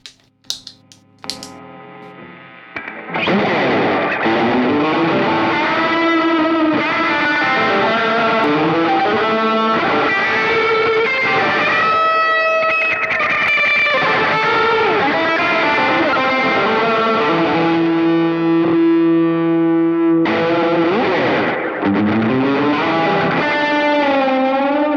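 Electric guitar played through a delay pedal set for slapback in front of drive, each note echoed in quick slapback repeats with a swirling, spacey tail, loud and continuous.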